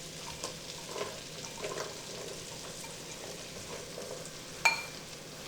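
Onion and celery cooking in butter in a pan: a faint, even sizzle with a few soft stirs and one sharper clink near the end.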